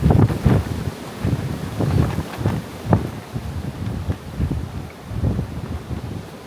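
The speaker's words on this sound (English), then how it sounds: "so then we get a bit of a gust." Strong gusting wind of about 40 mph buffets the microphone in rough, rumbling surges during a storm, rising and falling continuously with no voices.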